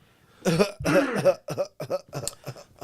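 A run of repeated harsh coughs, close and loud, about eight bursts in quick succession with short gaps between them.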